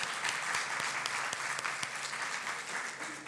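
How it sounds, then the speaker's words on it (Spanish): A church congregation applauds steadily, a dense, even wash of many hands clapping at moderate volume, with a few sharper individual claps standing out. "Denle un aplauso al Señor"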